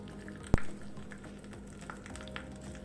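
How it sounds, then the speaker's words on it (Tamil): Mustard seeds splutter in a spoonful of hot oil on a stove, as faint, sparse crackles and pops with one sharp close pop near the start and no talking. "கடுகு பொரிஞ்சிருச்சு."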